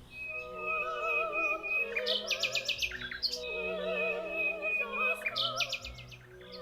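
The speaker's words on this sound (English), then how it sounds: "The nightingale sang, while Piggy danced to his beautiful voice." A nightingale sings a lively, varied song of clear whistles, rapid trills and sharp chirps, close and bright, repeating its phrases for several seconds with no one talking.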